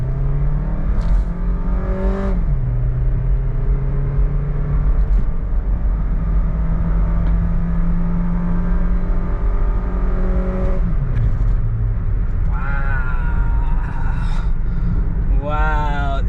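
A full-time four-wheel-drive car in power mode launches hard from a standstill, its engine revving up loud and close through a couple of gear changes, with a voice talking over the roar.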